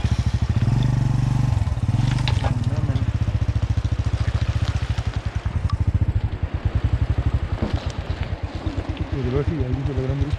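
A motorcycle is edged backwards on a rough, steep mountain track near Rakaposhi Base Camp, its engine thudding in a low, steady idle close by with faint clatter over the rough ground and a voice briefly over it near the end.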